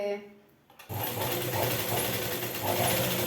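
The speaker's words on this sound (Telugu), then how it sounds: "అరుణక్కైతే నాకు ఇలా మిషన్ కుట్టేటప్పుడే లైవ్ చెయ్యి అని చెప్పింది" A sewing machine starts up and runs at a steady, continuous stitching whir, close by and fairly loud, with someone speaking just before it begins.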